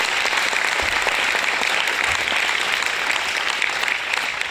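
Loud, sustained clapping from an audience gathered at a company rank-achiever event, an even wash of hands that holds steady for several seconds.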